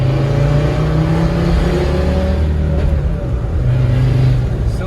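A Land Rover Discovery 2 drives under steady acceleration, a continuous loud engine drone with road noise and a brief shift in pitch midway, heard from inside the vehicle.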